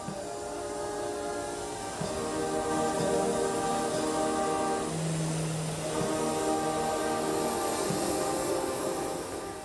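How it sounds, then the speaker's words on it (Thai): A royal aircraft departs a military air base, its engines giving a steady loud drone with shifting tonal whine throughout. "เพื่อประทับเครื่องบินพระที่นั่งเสด็จพระราชดำเนินกลับกรุงเทพมหานคร"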